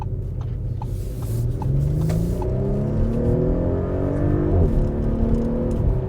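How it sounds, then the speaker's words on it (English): The engine of a 2020 Audi SQ5 pulls hard under acceleration, a loud, deep rising drone that steps up through the gears from inside the cabin. "It's a great sounding engine, actually."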